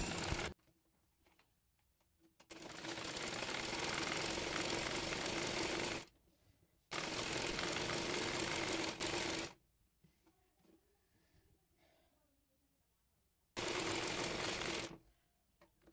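A sewing machine stitches the shoulder seams of a dress in three loud, steady runs of fast whirring needle strokes, separated by quiet pauses with faint handling noises.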